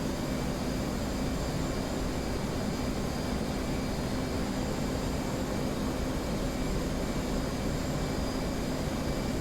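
Steady jet roar of an F/A-18 engine pushed to full military power in the DCS flight simulator, a constant broadband rumble with a faint high whine, loud and unbroken throughout.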